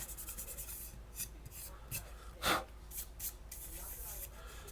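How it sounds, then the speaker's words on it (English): Hand-sanding the edge of a 14g stainless steel Byzantine weave chain with 5/16" rings produces quiet, repeated rasping rubs in short strokes, with one louder scrape partway through. "So all I'm doing here is just sanding off"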